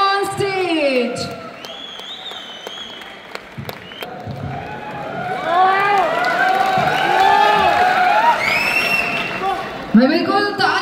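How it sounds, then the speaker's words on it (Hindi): Large crowd cheering and whooping at an anniversary stage event in a stadium in Delhi, a sustained wash of shouts and applause rising over several seconds while an announcer speaks over it. "भाई जोरदार तालियां"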